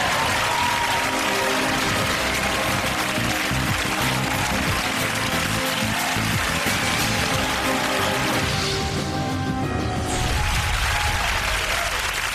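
A game-show studio audience claps and cheers steadily for a contestant on the TV show In It to Win It, a dense, loud wash of applause that goes on for the whole stretch and thins out near the end.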